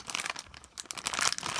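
A thin plastic Lego polybag crinkles and rustles as it is cut open with scissors, a soft, continuous crackling close to the microphone.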